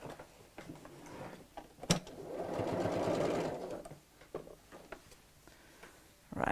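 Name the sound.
sewing machine sewing a double zip pocket bag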